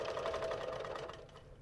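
A sewing machine stitches with a quick, regular mechanical chatter, close but fairly soft, running continuously and easing slightly toward the end.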